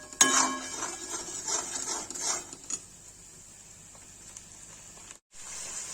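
Cauliflower roasting in a pan while a utensil scrapes and stirs it, giving a few sharp clatters and scraping strokes at the start that fade into a quiet hiss.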